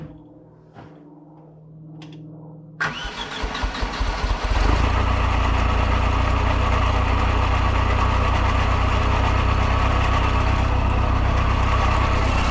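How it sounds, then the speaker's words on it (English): A 1973 Hydro Mac engine cranks and fires after a quiet moment of faint handling noises, sputters briefly, then settles into a loud, steady, close-up running rumble. "We're gonna fire it, and I'll give you a little idea what it sounds like anyway."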